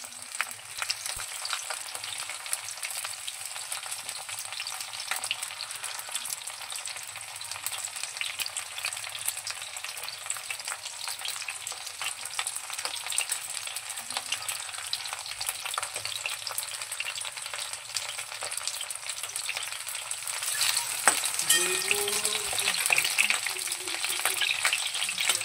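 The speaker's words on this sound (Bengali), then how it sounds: "ফুলকপিগুলো এবারে লাল করে ভেজে নেব।" Cauliflower pieces frying in hot mustard oil until browned, a steady dense sizzle and crackle that holds evenly throughout with a slight surge near the end, no voices.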